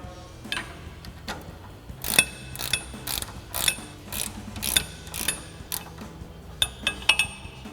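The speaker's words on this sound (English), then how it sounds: "we're going to grab a 17 mil ratcheting wrench, remove the nut from this side" A 17 mm ratcheting wrench removes the nut from a sway bar end link during a lift install on a Toyota 4Runner, giving bursts of quick metallic ratchet clicks in repeated strokes, close and fairly loud, with no talking.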